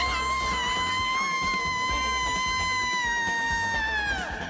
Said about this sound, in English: Did I just hear a cat scream, Mama?